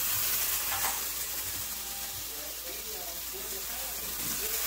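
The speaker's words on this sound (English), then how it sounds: "so I just saute this" Food sautéing in a hot pot for a spaghetti bake, a soft continuous sizzle with light stirring scrapes and faint background voice.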